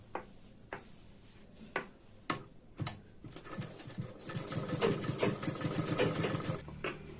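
A sewing machine stitches lining along the sides of a boat-neck blouse. A few short, separate bursts come first, then it settles into a steady, close, continuous run of stitching.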